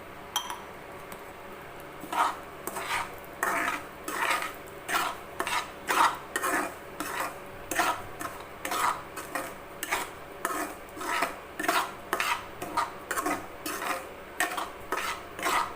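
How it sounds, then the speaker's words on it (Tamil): Semolina roasts in ghee in a pan while a spoon stirs it in a steady rhythm of soft scraping strokes with light metallic clinks. The sound is close and fairly quiet, with no talking. "இப்போது அதே நெய்யில் இந்த ரவையை போட்டு வறுத்துக்கலாம்"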